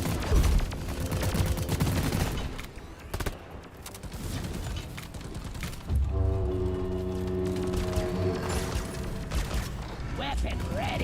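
Gunfire in the co-op shooter Deep Rock Galactic during a fight with the Caretaker, dense bursts and rattling volleys over a busy mix, with a voice talking over the shooting.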